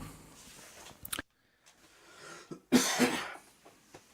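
A person coughs into a microphone at close range, with a short burst early on and a louder, rougher cough later, surrounded by quiet room noise and a brief spoken word.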